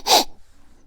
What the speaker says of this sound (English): and then you sniff it again.